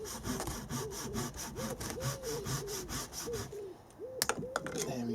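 Handsaw cutting through a dead Japanese maple trunk, steady back-and-forth strokes in a close, even rhythm that pause briefly near the end before a few more strokes, with no talking.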